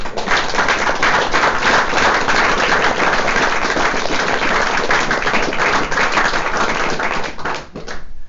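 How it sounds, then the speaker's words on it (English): A lecture audience gives sustained, dense applause for about seven seconds, loud and even throughout, before it thins out at the end. "Another round of applause."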